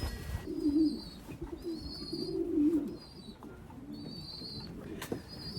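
Racing pigeons coo in low, repeated phrases, with a few thin chirps above them and a steady outdoor background. No one speaks.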